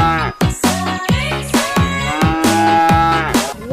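Limousin sacrificial cattle moo in a loud, close series of repeated, overlapping calls with deep, drawn-out tones.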